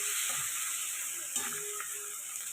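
Raw masala spices sautéed in oil for potol korma, a steady close sizzle with a few soft stirring scrapes and clicks, no voices.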